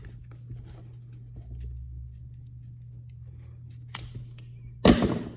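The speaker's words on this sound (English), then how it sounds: "You just take your rope with your scissors, cut a piece of rope off." Scissors snip through a length of rope, a single sharp cut near the end after a quiet stretch with a low steady hum underneath.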